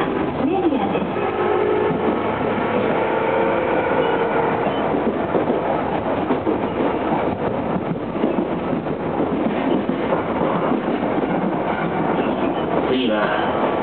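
Cabin of a Tobu 10030 series electric commuter train, car MoHa 12635, a section semi-express bound for Asakusa running from Tobu-Dobutsu-Koen toward Himemiya: a steady rumbling roar with rail clatter and faint rhythmic clicks, along with a passing announcement voice.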